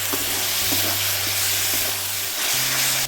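Chili, cumin and coriander powder masala sizzles loudly in hot oil after a splash of water for a pangas fish curry, a close, continuous hiss of frying with a steady low hum beneath.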